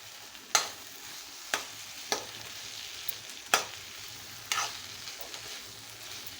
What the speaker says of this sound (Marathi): आता भेंडीवरती भाज हे घालून घेऊया कढईमध्ये आणि व्यवस्थित परतून घेऊया